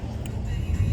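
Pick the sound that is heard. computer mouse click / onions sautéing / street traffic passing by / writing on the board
street traffic passing by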